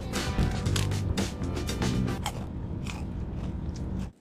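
Loud, close biting and chewing of a crunchy snack, with rapid crisp crunches over the first few seconds that ease into softer chewing before stopping abruptly.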